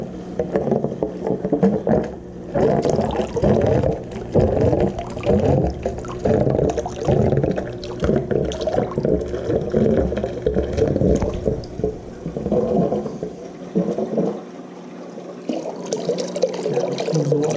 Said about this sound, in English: push down on the pump or on the pedal and the pump will start running.